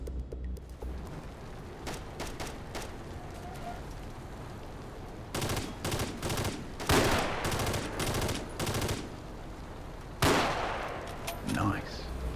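Gunfire in the online shooter Darkest Hour: bursts of rifle and automatic shots crack out in clusters, loud and close, with scattered single rounds between volleys and a few quieter distant reports.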